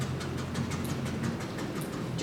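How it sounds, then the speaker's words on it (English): A train rolls in across a cane field toward a station with a steady rumble and a rhythmic clickety-clack of wheels on rail joints, loud and close throughout. "He heard this train coming in across the cane field."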